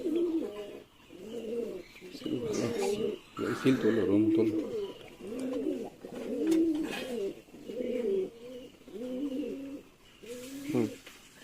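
Pigeons coo in a steady, repeating rhythm close by during a pigeon-flying tournament, with someone talking over them and a few brief chirps.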